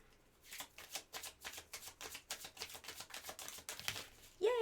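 A deck of tarot cards is shuffled quietly in a quick run of soft, papery riffles, about a dozen close-spaced bursts, ending with a brief higher tone.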